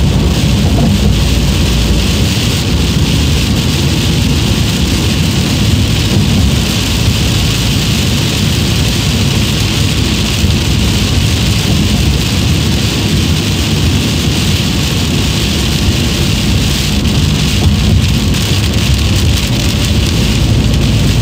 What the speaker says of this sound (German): Hört ihr das? Das ist Regen,